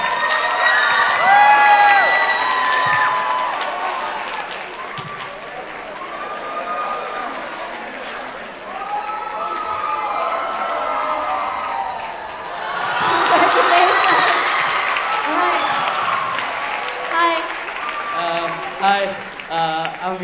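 An indoor audience at the VOMG 2017 prize presentation claps and cheers, swelling into a loud burst of applause and whoops midway, with people talking before and after.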